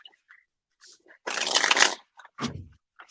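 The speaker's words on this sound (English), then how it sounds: "I shuffle till they tell me to stop." Tarot cards are shuffled up close during a reading: one quiet, crisp riffling burst lasting under a second, with faint scattered handling noises and brief murmurs around it.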